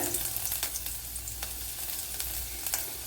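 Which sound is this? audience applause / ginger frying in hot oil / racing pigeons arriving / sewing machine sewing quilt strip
ginger frying in hot oil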